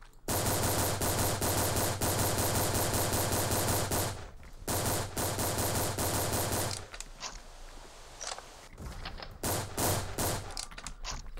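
Rapid automatic gunfire from a video game shooter, loud sustained bursts of several seconds each, followed by scattered single shots and thuds.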